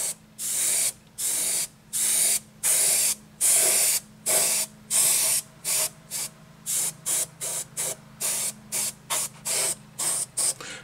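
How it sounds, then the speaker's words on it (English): An airbrush sprays chipping fluid onto a Tamiya ISU-152 tank model in a rapid series of short, crisp hissing bursts, each under a second, separated by brief silences and heard alone. "I've got some chipping fluid in the airbrush"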